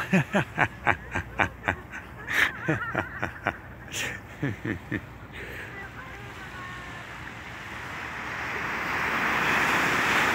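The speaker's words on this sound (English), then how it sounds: "the ocean is very playful" Ocean waves roll in and break on the sand at Belmont Shore, a steady wash of surf swelling louder toward the end, with footsteps crunching rhythmically early on and some wind buffeting.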